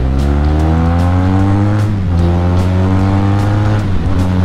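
A Benelli motorcycle pulls away from a showroom in Agra with a loud, steady engine drone whose pitch shifts as it moves off, mixed with wind rush and no talking.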